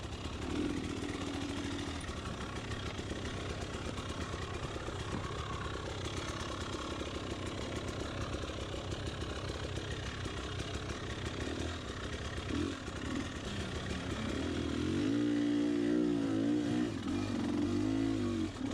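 An enduro dirt bike engine drones continuously during a hard enduro ride along the base of a cliff face on up-and-down, off-camber terrain, with revs rising and falling and a louder, throatier surge near the end.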